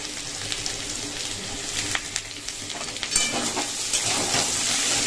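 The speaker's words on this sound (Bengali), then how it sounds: "আর কিছুক্ষণ ভাজবো পেঁয়াজটা" Onion and green chilli sizzle in a pan with browning potatoes, a continuous frying hiss with scattered crackles and stirring scrapes, growing louder and denser toward the end.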